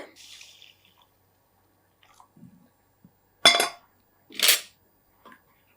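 Boiling water is poured into a pan while cooking mango kesari, heard as two short, sharp splashing bursts about a second apart amid soft kitchen clinks.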